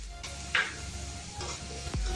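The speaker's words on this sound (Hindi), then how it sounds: "अब इन दोनों को अच्छे से मिक्स कर लेती हूँ और प्याज की सॉफ्ट होने तक इसे कुक कर देती हूँ" Onions fry gently in a pan over a low-medium gas flame, a soft sizzle broken by a few scraping stirs and a bright spatter burst, quiet and close with no voices.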